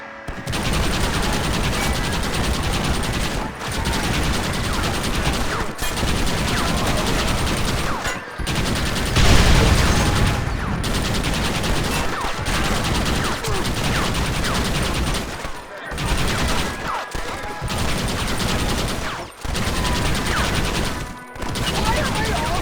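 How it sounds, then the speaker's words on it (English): Gunfire rings out in the video game Red Dead Redemption on PS5: dense, loud volleys of shots pile on one another and keep coming in long bursts, with short gaps between them. "Why are they all shooting at me?"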